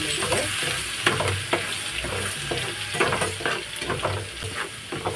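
Ginger garlic paste fries in oil left from frying chicken for chicken pickle, a loud close sizzle with brisk repeated stirring and scraping against the pan throughout.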